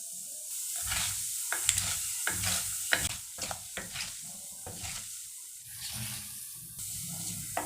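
Cumin, mustard seeds and urad dal frying in hot sesame oil for a village-style fish curry, a soft continuous sizzle broken by scattered pops and spoon scrapes, close and fairly quiet with no talk.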